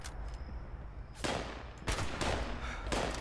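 Gunfire from an assault rifle carried by a Scorch creature, shooting at a feral ghoul in the game Fallout 76: faint crackle at first, then several loud bursts of shots at close range, with no talking.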